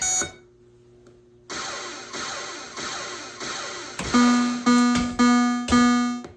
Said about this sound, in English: This one also has a ROM error on the audio. It'll get 4 beeps, but that's normal for me.